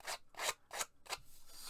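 The edge of a pair of scissors scrapes up paper bits in four quick, close, rasping strokes, quiet but crisp, followed by a softer brushing sound.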